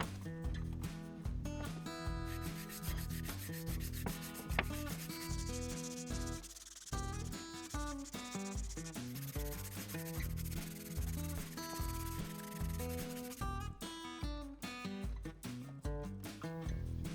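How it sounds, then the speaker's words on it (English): A wooden hammer handle is smoothed with 240-grit paper on a contour sanding grip, giving steady rubbing strokes under a loud, rhythmic musical backing. "Then to finish, I use this contour sanding grip with a 240 grit to"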